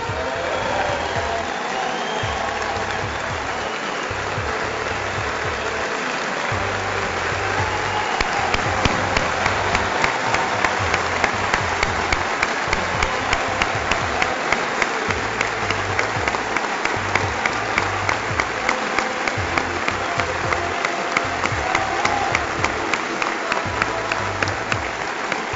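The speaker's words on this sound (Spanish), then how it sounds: "Pido un aplauso especial para John Alexander Martínez Arango." At a university engineering faculty graduation, a large audience gives sustained, steady applause that swells and carries on for about twenty-five seconds, filling the hall with dense clapping.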